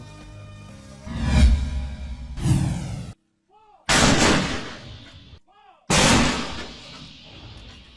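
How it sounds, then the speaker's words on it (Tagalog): A 105 mm howitzer fires repeatedly during a military operation in Lanao del Sur, three loud booming blasts that roll out into long rumbling tails, separated by brief silences. "Sunod-sunod na nagpaputok ng 105 Hawik sa tropa ng mga sundalo kahapon pupunta ng Butig, Lanao del Sur."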